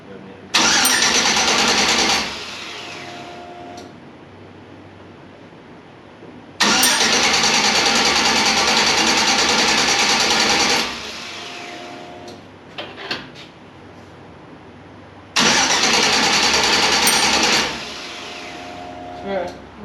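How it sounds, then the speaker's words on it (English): An engine cranks over on the starter with no ignition, three separate bursts of churning starter noise a few seconds each, separated by pauses with small clicks and clunks. "Alright, no ignition. Just turn it over."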